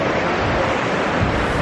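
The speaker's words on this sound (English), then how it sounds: "It's like a really massive waterfall" A massive waterfall at Meadow Point Reservoir in the Black Canyon of the Gunnison, heard as a continuous loud, broad rushing roar with no break and no talking.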